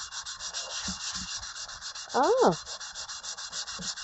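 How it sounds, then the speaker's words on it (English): Steady, close scrubbing of the burnt bottom of a stainless steel pan, a continuous rough rasping with a repeating stroke rhythm and a brief louder scraping swell partway through; no voices. "let's start scrubbing."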